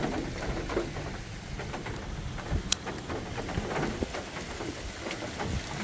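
Steady rain pours outdoors near trees at the edge of a village during a sudden storm, with a dense wash of drops, gusting wind and a sharp thunder crack around the middle.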